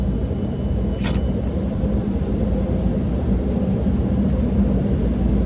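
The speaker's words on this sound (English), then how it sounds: "Oh man, I've always loved car washes." A car inside an automatic car wash, with a loud, continuous rumbling roar of water and machinery filling the space, plus one brief sharp hiss early on.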